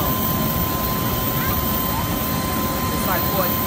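A jet engine roars in a steady, broadband rush that holds evenly across the whole stretch, with a person talking over it.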